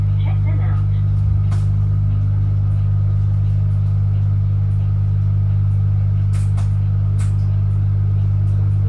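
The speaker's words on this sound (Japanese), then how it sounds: "EV バスは電気バスってことなんで、電気とモーターで走るんでね、普通のディーゼルエンジンに比べて静かです。" Ride inside a large Osaka Metro electric bus built by EV Motors Japan, on its way to the Osaka-Kansai Expo. A steady low electric motor hum runs throughout, with occasional faint clicks and brief cabin sounds above it.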